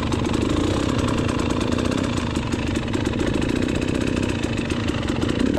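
An enduro dirt bike engine drones steadily and loudly while the rider takes a tight full-lock turn on a beginner hard enduro course, with a continuous rough, buzzing tone and no talking.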